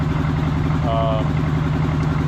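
A 1984 Honda Goldwing motorcycle being revived, its engine running with a steady, loud, low rumbling idle throughout, close by, with a brief faint higher tone partway through.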